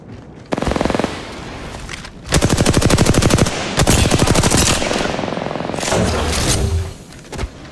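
Automatic gunfire in a video game rattles out in several loud, rapid bursts of shots with brief pauses between them, up close and without talking.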